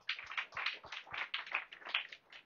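A church congregation claps in praise during a service, producing a quick, steady run of sharp claps that sounds modest in level and somewhat distant, with no talk over it.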